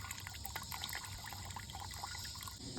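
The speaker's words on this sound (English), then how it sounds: "So we're gonna wait for it to drip." Homebrew wort drips and trickles from steeped barley into a pot, a faint, continuous liquid patter with scattered soft drops over low background hum.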